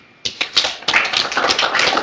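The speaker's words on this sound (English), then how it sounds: "I'd like to ask for an applause to David Stiles." Applause at a transhumanist conference, starting suddenly after near silence and building into dense, close clapping from a small crowd that continues for about two seconds.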